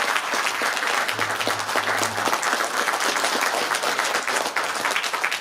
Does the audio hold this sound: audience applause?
yes